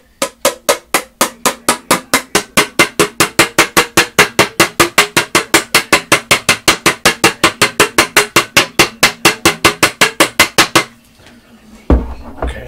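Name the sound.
hammering lid shut on a stain can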